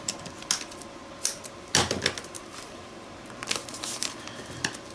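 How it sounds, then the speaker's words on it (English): Tape is pressed onto a book page by hand: short papery crackles and taps spread irregularly, with one louder crinkling burst partway through, close and with no talk. "So I'm just going to tape it down"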